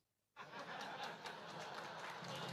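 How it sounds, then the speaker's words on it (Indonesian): An audience breaks into applause after near silence, a sudden swell of clapping mixed with light laughter and chatter that holds steady at moderate volume. "kenapa tepuk tangan?"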